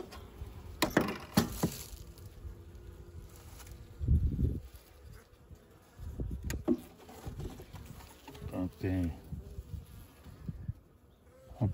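Honeybees hum faintly inside an opened, overwintering hive, under clatter and scraping as hive boards and frames are shifted, with a few knocks and bumps close by.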